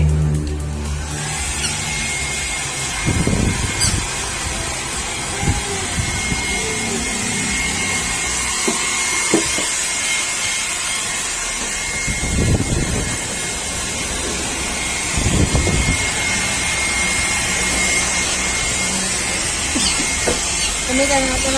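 A loud, steady pet blower dryer drones throughout with a constant high whine while drying a wooly puppy, as low thumps and bursts of handling noise come and go underneath.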